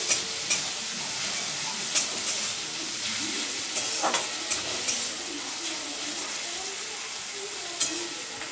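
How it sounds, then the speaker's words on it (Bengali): Chopped garlic and tomato fry in a pan for a lote fish curry, giving a soft, continuous sizzle. Occasional sharper clicks and scrapes of stirring sit over the hiss, and the whole sound stays fairly quiet. "সাথে আমি একটা টমেটো কুচি সেটাও দিয়ে দিলাম এবার এগুলো আমি ভালো করে ভেজে নেব কাঁচা গন্ধ চলে যাওয়া অব্দি"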